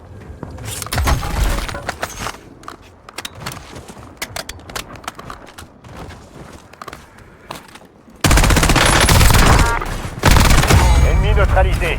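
Video game gunfire with the FFAR rifle, rapid automatic bursts and scattered shots, loud and close, ending in a dense sustained fusillade, with a player talking over parts of it.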